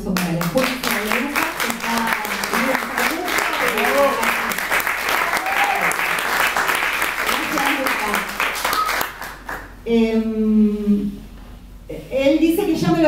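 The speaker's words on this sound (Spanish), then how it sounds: "pido un fuerte aplauso para el esfuerzo de Lucas" A seated audience at a book presentation gives sustained applause for the sound technician, loud dense clapping for most of the stretch before it breaks off and a voice speaks, then clapping resumes.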